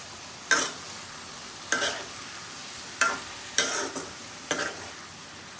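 A spoon scrapes through khichuri vegetables and green chillies in a pot, about six or seven distinct stirring strokes with short pauses between them, close and clear.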